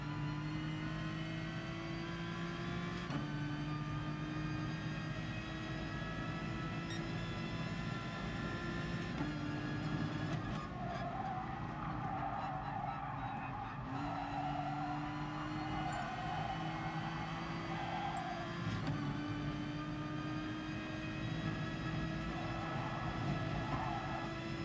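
Race car engine in the Gran Turismo Sport video game, a steady sustained drone with rising pitch sweeps as it accelerates through gears and brief dips at shifts, loud and continuous with no talk.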